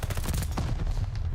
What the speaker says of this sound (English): A hail of gunfire rips him to pieces.